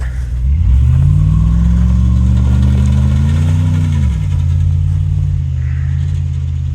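A big Ram pickup truck drives through snow, its engine droning loud and close in a steady low rumble that rises in pitch as it revs harder, then falls back to a lower, even roar.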